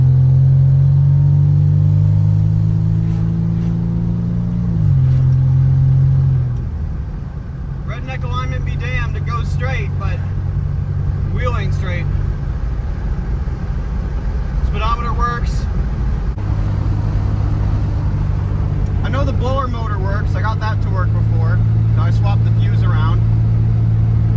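A 1986 Nissan 300ZX engine hums steadily while the car pulls away and drives, a low droning note that shifts briefly as it accelerates and then holds under frequent conversational talk throughout.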